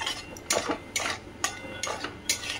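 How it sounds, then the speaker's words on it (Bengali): A spoon scrapes and clinks against a pan as ground cumin, coriander and turmeric are stirred and fried with yogurt, several sharp scraping strokes in a steady rhythm, close and moderately loud. "আর এই মশলাটা ভালো করে কষে নিচ্ছি"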